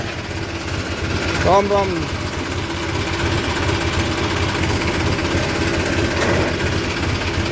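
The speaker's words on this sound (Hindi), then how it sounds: "ट्रैक्टर की आवाज़ मुझे ज़्यादा ही लगती है, इसकी बहुत ज़्यादा आवाज़ करता है।" A farm tractor engine running steadily and loudly with a rough, knocking idle throughout, while someone speaks briefly over it.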